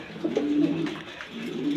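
A male pigeon coos softly a few times in low, throaty bursts, close and fairly quiet, with no talking.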